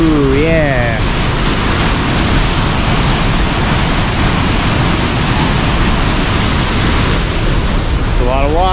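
Trümmelbach Falls in the Lauterbrunnen Valley pours with a loud, steady roar of rushing water that holds throughout, close by, with a brief voice at the start and end.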